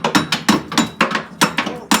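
A hammer strikes the metal brake rotor of a Polaris Ranger 500 utility vehicle about eight times in an uneven rhythm, each close, loud blow ringing briefly.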